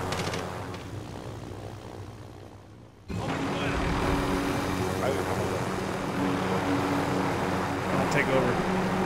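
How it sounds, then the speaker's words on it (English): A helicopter in the video game Call of Duty Warzone sets in abruptly after a quieter opening and then holds a steady, fairly loud engine-and-rotor drone to the end. "Get in the chopper."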